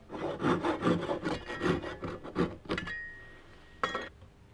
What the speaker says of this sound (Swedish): Så, nu är det bara att såga av